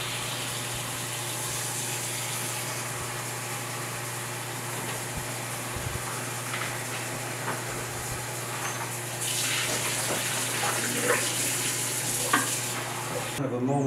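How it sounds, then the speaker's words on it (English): Running water rinses colour film during home developing, a steady wash that swells louder partway through, with faint handling clinks and no talking. "the next thing I'm going to do is rinse it out 7 times"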